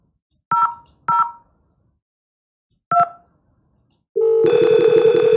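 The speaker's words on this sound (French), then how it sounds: "je vais appeler Rama" Three short tones punch in as a call is dialed on an Asterisk IP phone system running on Debian, followed by a loud, continuous ringback or line tone that starts abruptly and holds, with no talking.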